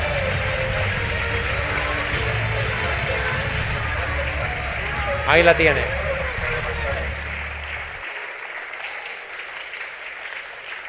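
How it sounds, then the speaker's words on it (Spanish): Strong applause from a church congregation beneath a preacher's voice, with a brief shout rising midway before the clapping continues and thins out. "Den un aplauso fuerte al Señor"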